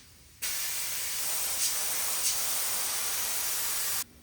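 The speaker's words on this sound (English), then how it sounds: "We're going to coat each one, glue them together. I've got a 3M contact adhesive." A spray gun applies 3M contact adhesive onto foam and vinyl for upholstery, making a loud, close, steady hiss that runs unbroken for about three and a half seconds with no talking.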